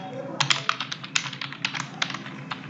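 Java code is typed on a computer keyboard, a fast close run of crisp key clicks in an uneven rhythm, with a faint voice in the background.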